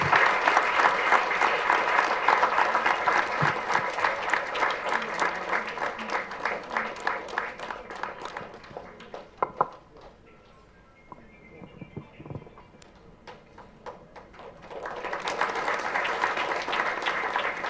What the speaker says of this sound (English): the sound of the clap is very mild